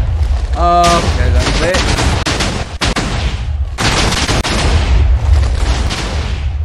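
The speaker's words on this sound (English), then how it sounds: "I'm going to go over here and do the airstrike TNT. Oh no. Oh no, there's going to be an airstrike." Airstrike TNT from the Too Much TNT mod in Minecraft sets off a dense barrage of loud, rapid explosions that rumble almost continuously, briefly under a speaking voice near the start.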